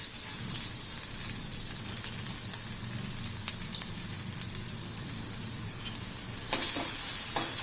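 A bay leaf and roughly chopped onions sauté in hot vegetable oil, giving a steady close hiss of frying that holds throughout, with a brief louder crackle of stirring near the end.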